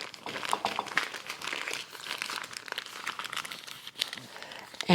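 Filling is worked down inside a makeshift plastic pastry bag for Hawaiian rollnuts, with continuous close crinkling and squeezing rustles of the plastic, irregular and moderately loud.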